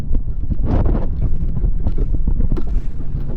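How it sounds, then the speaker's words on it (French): Strong wind buffets the microphone on a summer toboggan run in the Vosges. The gusts are loud, rough and continuous for a few seconds, with no talking. "si vous entendez beaucoup de vent, je suis pour rien"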